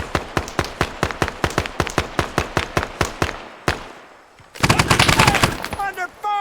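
Heavy machine gun fire in the ArmA 3 video game rattles out in a steady run of evenly spaced loud shots, breaks off briefly, then resumes as a denser, faster burst.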